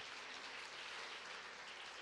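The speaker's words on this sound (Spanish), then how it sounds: "Le damos un fuertísimo aplauso al Señor." Dense, steady applause from a church congregation at a Sunday service, a brief continuous wash of clapping at moderate, fairly faint level with no voices on top.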